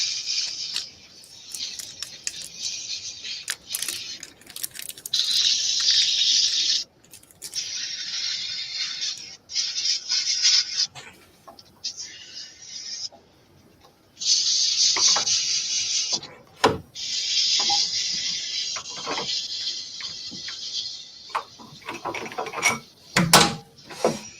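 Wood being sanded by hand with sandpaper: bursts of harsh, hissing rubbing strokes that start and stop irregularly, with scattered knocks and handling noises between them, close and with no talk.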